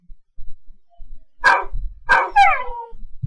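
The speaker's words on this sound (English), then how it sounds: "Dog." A dog barks a few times, two or three sharp, close barks in quick succession against an otherwise quiet background.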